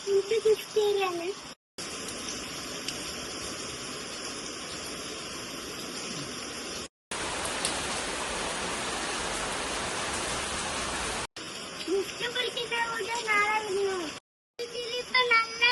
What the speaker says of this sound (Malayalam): ഇപ്പൊ നല്ല മഴയാണ്.